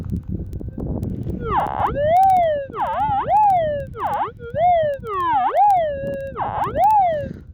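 Metal detector signal over a shallow gold target in Western Australia goldfields: loud, repeated swooping warble tones rising and falling with each pass, over a background of scraping ground noise, no talking.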